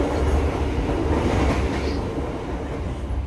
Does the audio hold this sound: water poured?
no